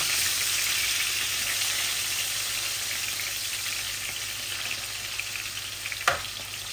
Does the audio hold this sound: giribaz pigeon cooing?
no